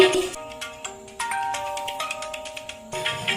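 A melodic electronic ringtone plays a repeating chime pattern, clear and close, with no one speaking.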